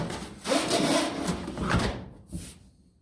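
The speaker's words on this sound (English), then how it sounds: "Then you want to put your lint trap back in." A plastic dryer lint trap scrapes and slides into its slot in a few rough rubbing strokes, ending with a short bump as it seats, close by.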